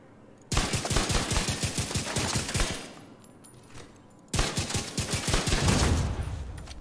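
An automatic rifle fires rapidly at an elite enemy in The Division 2, first a sustained burst of evenly spaced shots, then a pause, then a second dense burst, loud and close.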